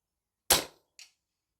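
Daystate Alphawolf air rifle fires a single pellet: one sharp, close crack with a brief decaying tail, followed by a faint short report from the pellet's impact a half second later, otherwise silent.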